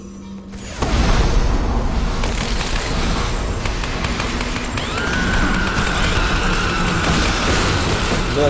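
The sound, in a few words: big explosion in video game Lara Croft and the Temple of Osiris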